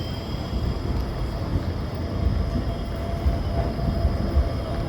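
A tram rumbles past at street level, a low rolling drone with faint rail squeal, steady and fairly close, with no voices.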